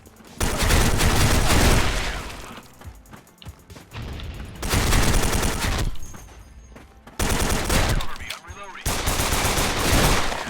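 Rapid automatic gunfire from the Special Force 2 shooter game, with a K2 rifle among the weapons, comes in three long, loud, dense bursts separated by brief pauses. It is close and fills the whole scene.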